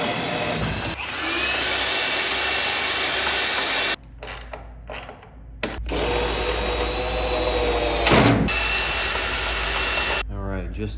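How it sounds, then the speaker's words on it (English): A power drill runs in long, loud, whining bursts while boring through metal, with brief pauses between runs where the motor stops and restarts. "And I just gotta drill right through it."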